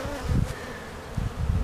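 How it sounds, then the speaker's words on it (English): Honey bees buzz around two hive boxes, a close, fluctuating drone with brief louder swells as individual bees fly near. "We got two boxes of bees right here."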